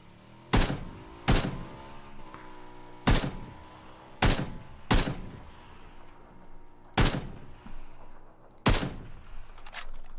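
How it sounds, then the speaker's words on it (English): Seven loud, sharp gunshots in PUBG ring out at irregular intervals, each a sudden crack with a short echoing tail over a low background hum. "He heard gunshots down there."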